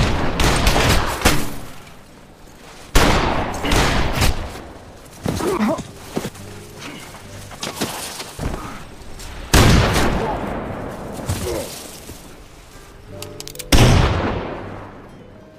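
Gunfire erupts during a film shootout in a forest, with loud repeated bursts and volleys of shots separated by brief lulls, echoing and then trailing off between the bursts.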